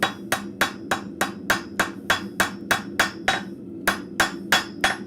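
Blacksmith's hammer striking scrap metal stock on the edge of an anvil while forging an arrowhead, a steady series of about fourteen sharp ringing blows in even rhythm, close and loud with no talking.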